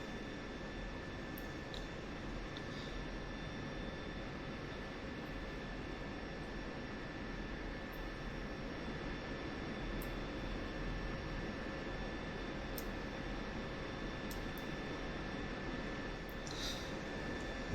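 A jet aircraft taxiing in the combat flight simulator DCS World, heard as a steady, even engine drone with a constant whine running throughout, plus occasional faint clicks, and no talking.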